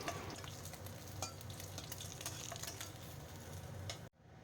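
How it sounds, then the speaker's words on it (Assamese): Fish pieces fry in hot oil in a pan, making a close, steady sizzle with a crackle and small pops that carries on evenly until it cuts off abruptly near the end, with no talk. "আমাৰ মাছ কেইটুকুৰা ধুনীয়াকৈ ফ্ৰাই হৈ গৈছে"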